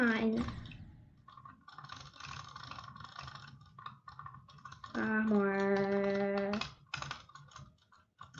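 A computer mouse clicks rapidly and repeatedly during a game of Geometry Dash, in close, irregular bursts under sustained tonal game sounds.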